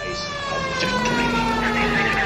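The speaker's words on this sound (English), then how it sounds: "I gotta use my annoying siren, you guys. Ah, it's so loud!" A 1940s police car siren in LA Noire wails loud and close, its steady tone rising and holding over engine rumble, with no one talking.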